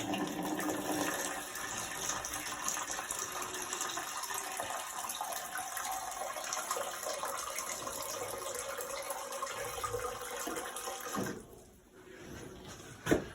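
Distilled water runs steadily into a clinic autoclave, a continuous rushing fill that holds even for about eleven seconds, then drops off briefly before a small knock at the end.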